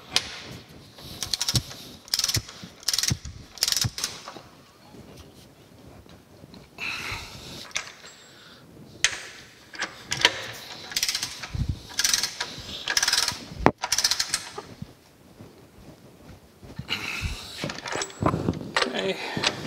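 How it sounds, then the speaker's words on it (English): Bolts on the upright columns of a metal planer being tightened with a ratchet wrench, bursts of quick clicking and metallic ratcheting repeated many times with pauses between, close by, with occasional talk. "I'm going to go ahead and tighten all these up now"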